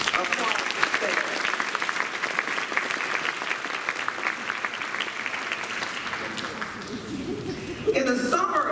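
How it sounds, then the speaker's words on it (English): Faculty and staff of a community college applauding together, a dense sustained round of clapping filling the room before it fades and a voice begins speaking at the end. "Applause yourselves."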